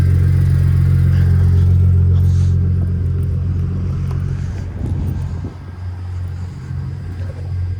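A car engine idling while warming up, a loud, close, steady low rumble that eases slightly in level partway through and continues alone.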